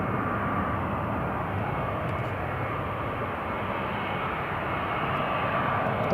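A British Airways airliner at Newcastle Airport makes a continuous, moderately loud jet engine rumble that stays level throughout, with no voices.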